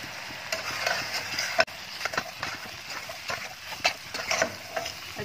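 Lightly fried houbara bustard meat is stirred and sautéed in masala in a pan, making a low sizzle broken by repeated clattering scrapes and knocks of the spoon, close by and fairly quiet, with no talking.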